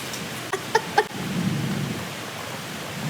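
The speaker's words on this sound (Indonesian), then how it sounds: "malam minggu hujan tuh" Steady rain hisses through a nighttime corridor of an abandoned university building, with a low rumble of thunder swelling after a few short chirping calls early on; the rain is close and fairly loud, and no one speaks.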